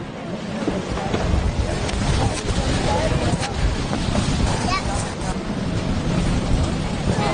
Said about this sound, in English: It's slightly breezy. A little breezy. A little blustery.